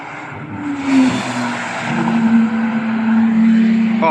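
A GT3 race car at the Cadwell Park track day, a loud engine roar that swells as the car passes close by and stays strong with a droning, slightly shifting pitch.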